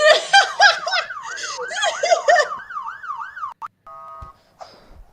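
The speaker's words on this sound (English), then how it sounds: "Why is there an alarm system?" A warbling alarm siren in the Roblox Brookhaven game wails loud and close in rising and falling sweeps for about three and a half seconds, then cuts to brief electronic beeps and quieter game sounds.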